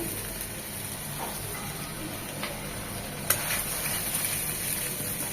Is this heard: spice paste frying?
yes